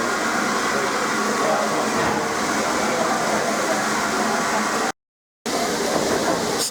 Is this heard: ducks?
no